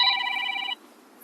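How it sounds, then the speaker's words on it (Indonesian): A telephone rings with an incoming call, one steady electronic trill lasting under a second before cutting off and leaving a quiet room. "Sebenarnya ada telepon dari konsumen kayaknya."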